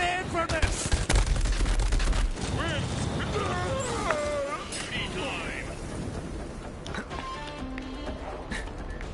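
Gunfire from a gun in the video game Borderlands 3: loud, rapid bursts of shots with booming impacts fill the stretch, while someone talks over the shooting.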